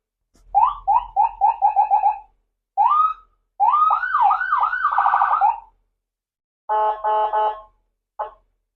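A 2015 Ford F-450 Super Duty ambulance with a 6.7 liter engine cycles through its siren and alarm tones: rapid repeated yelps, a warbling wail, then a pulsing hi-lo blare, loud and close with brief pauses between patterns.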